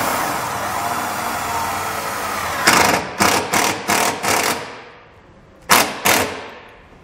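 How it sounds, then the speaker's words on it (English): A power driver sends a self-tapping screw into vehicle body metal while fitting a trailer wiring harness, giving a series of sharp, loud ratcheting bursts in quick succession, then a pause and two more close-up bursts. "I'm going to secure it using the included self-tapping screw."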